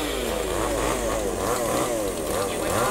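A chainsaw, either a Zenoah G2501T or a Tanaka ECS-3309, cuts into a tree with a loud, continuous high-revving engine whine that wavers in pitch as it bites, close to the microphone.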